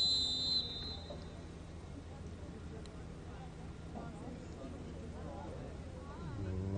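A short, shrill referee whistle blast sounds at the start of a high school girls' soccer game on an outdoor field, followed by steady crowd murmur and distant ambient noise as a person talks nearby.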